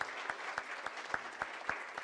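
Audience clapping at a summit gathering, a steady spread of many hands with a few sharper claps standing out, fairly faint and distant, no talk over it.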